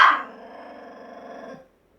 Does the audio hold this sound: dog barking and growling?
yes